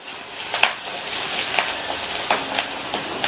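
Green chilli and curry leaves sauté in oil in a pan, a steady close sizzle broken by several soft stirring scrapes at irregular intervals.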